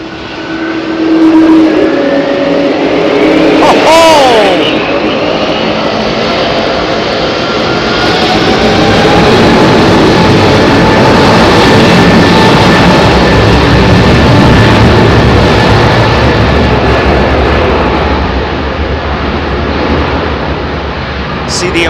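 A heavy Boeing 777 roars down runway 27R at Heathrow and lifts off, a loud, sustained jet engine thunder with a rising whine, filling the whole stretch close by, with a voice speaking briefly over it early on.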